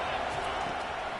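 A college football stadium crowd roars steadily as fans rally behind the defense on third down, a dense wash of noise with a commentator's voice faintly underneath.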